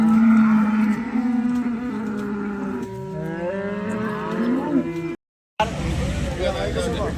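A cow lets out a long, deep moo up close at a cattle market, followed by more lowing, with people talking nearby.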